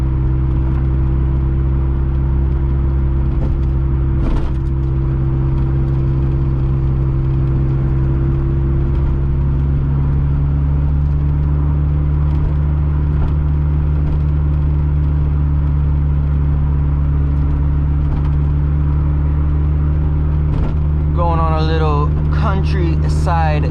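A turbocharged 1.6-litre Mazda Miata tuned to about 250 hp hums steadily from inside the cabin on a cold engine just started, its low drone holding under occasional talk with a brief rise in pitch near the end.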